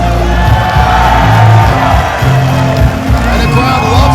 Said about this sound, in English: And the crowd loves him.